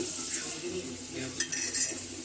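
Pot and utensils clatter and scrape as a home cook sets up to make khichuri, the stirring and clinking steady and close with a few sharper knocks, no one talking.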